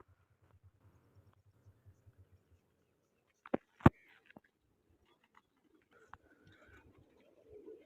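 Pigeons kept for a pigeon-flying competition coo softly in a quiet setting, low repeated coos early on, then a few sharp knocks and faint bird sounds.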